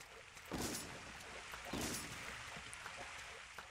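Two loud, punchy gunshots from a powerful weapon in the blocky first-person shooter Dead Bits, spaced about a second apart over a quieter background hiss.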